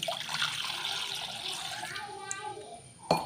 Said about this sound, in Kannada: ಒಂದು ಚೊಂಬು ನೀರು ಪಾಡುವೆ